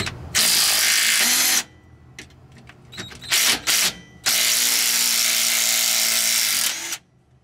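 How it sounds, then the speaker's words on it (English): Harbor Freight Bauer impact wrench runs in reverse on a nut and bolt while a rear sway bar is fitted to a Ford Panther-platform car, with two loud, close, sustained rattling bursts split by brief clanks and handling sounds. "This will be the second time I've used this, the Harbor Freight Bauer Impact."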